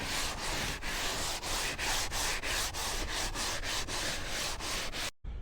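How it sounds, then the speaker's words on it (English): Rapid, even scrubbing of an abrasive brush over a muddy kayak hull, loud and close with a regular rhythm of gritty strokes and no talking, cutting off abruptly near the end. "So head and just start using this abrasive scrub brush."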